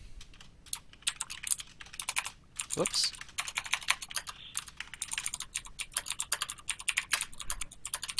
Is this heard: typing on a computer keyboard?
yes